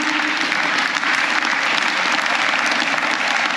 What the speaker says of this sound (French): On peut les applaudir, les parents